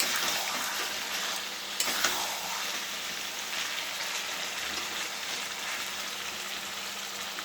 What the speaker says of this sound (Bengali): আলু দিয়ে একটু কষে নিচ্ছি